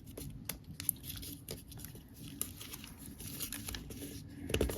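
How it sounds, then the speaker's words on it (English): Origami paper is swivel-folded and flattened into a heart shape, giving soft crinkling, rustling and light tapping that come close and fairly quiet, with a few sharper crisp snaps scattered through and no talking. "Now, swivel fold this flap over to the right, opening it along this purple edge."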